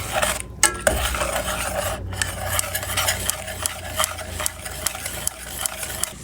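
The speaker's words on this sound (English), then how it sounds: "And get all that stirred together." A spoon stirs ingredients together with a dash of salt for an easy holiday treat, making repeated scraping and rasping strokes against the container, close and steady, with no voices.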